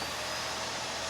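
An InterVac GarageVac garage vacuum, wall-mounted on concrete, runs steadily after switching on, a loud continuous broadband motor roar with a low hum beneath, no pause across the short stretch.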